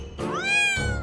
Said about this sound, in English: It's my little cat!